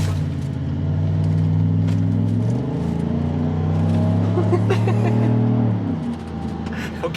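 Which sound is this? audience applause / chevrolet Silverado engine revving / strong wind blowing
chevrolet Silverado engine revving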